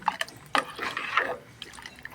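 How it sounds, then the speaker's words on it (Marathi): Water splashes and pours into a pot of tomato sambar in a few uneven gushes, close up, with no talking. "पाणी घालणे"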